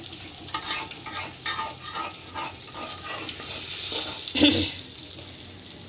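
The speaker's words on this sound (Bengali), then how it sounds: "ডিম ভাজা" Eggs fry in hot oil with a cumin tempering, producing a close sizzle with rhythmic stirring scrapes and a brief louder burst near the end.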